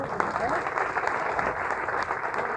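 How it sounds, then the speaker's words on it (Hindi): Audience at a community gathering in Ghaziabad clapping hard for a team, a brisk continuous patter of many hands, fairly faint and a little distant, with voices mixed in. "उन सब के लिए जोरदार ताली बजाओ भाई"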